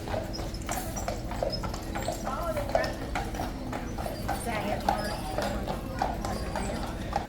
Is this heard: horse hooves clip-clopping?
yes